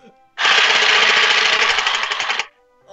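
A loud burst of rapid gunfire from a video game, a dense rattling barrage lasting about two seconds before cutting off.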